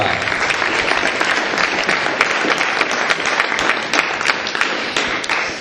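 A church congregation applauds with dense, sustained clapping that stays loud and even, a crowd of many hands filling the space.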